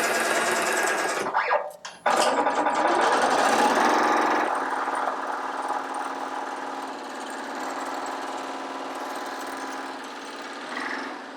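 A Happy HCU2 15-needle commercial embroidery machine stitches steadily, a fast mechanical whirring hum after a brief clunk at the start, running alone and close by.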